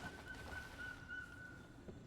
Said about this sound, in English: Because I swear I just heard, like, whistling?